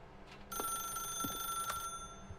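Telephone ringing inside The Stanley Parable video game, a steady electronic bell tone with a few sharp clicks, fairly faint and heard alone.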